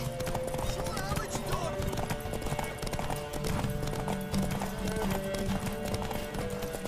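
Steady clip-clop of horse hooves in The Witcher 3: Wild Hunt under a continuous bed of game music and ambient noise, rhythmic and moderately loud throughout.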